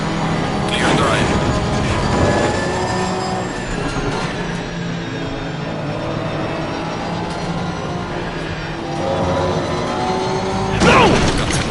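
Racing cars collide in Assetto Corsa Competizione on PS5, with a sharp crash burst near the start and another near the end over constant engine drone, while someone talks.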